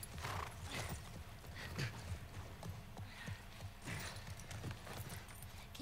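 Faint, regular clip-clop of horse hooves in The Last of Us Part 1 video game, a steady trotting rhythm with some light mechanical clicks mixed in.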